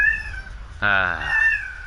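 A cat in Rise of the Tomb Raider lets out one loud, fairly close meow partway through, over faint rain and indoor ambience in Croft Manor.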